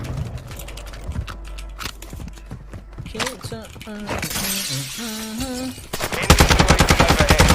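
Rapid automatic gunfire from a Lachmann 762 rifle in the video game Warzone 2, with bursts of sharp shots near the start and a loud sustained volley at the end. Someone talks excitedly over the shooting in between.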